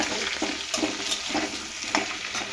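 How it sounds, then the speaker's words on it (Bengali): Pointed gourd frying in oil tempered with cumin and dried chilli, giving a steady, close sizzling hiss with faint crackles and soft bursts throughout. "জিরা শুকনো লঙ্কা ফোড়ন দিয়ে পটলগুলো ভাজতে দিয়ে দিলাম"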